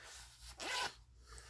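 Zipper of a soft padded, leather-feel Zelda Game Traveler slim travel case with rubber parts, pulled once in a short, quiet, close rasping zip.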